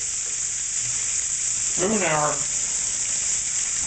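Panko-breaded chicken frying in a deep fryer, a steady close hiss of bubbling oil that continues throughout, with a brief voice passing over it midway.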